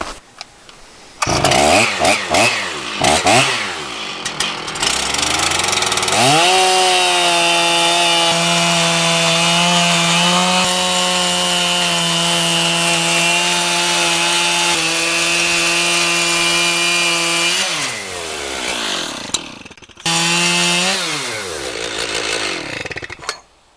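Chainsaw milling lumber from wood, the engine revving up then holding a loud steady whine through a long cut before dropping back to idle and briefly revving again, close and alone without speech.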